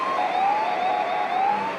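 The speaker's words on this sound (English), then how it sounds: "still got those sirens going there" Wailing emergency sirens sounding during an ANZAC Day parade, a continuous rising and falling tone heard at moderate distance over outdoor ambience.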